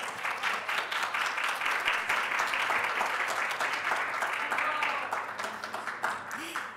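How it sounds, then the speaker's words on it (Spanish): A panel audience applauds for a university lecturer being introduced as a speaker, with steady, dense clapping from many hands for several seconds and some voices faintly underneath. "Un aplauso, por favor."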